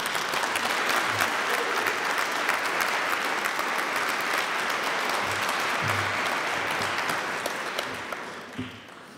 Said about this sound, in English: give a warm and strong applause for the governing mayor of the city of Berlin